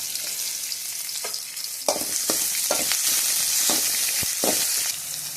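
Onion and dried red chillies sizzle and fry in a pan, a steady crackle broken by several sharp bursts as the pan is stirred, heard close up without talk.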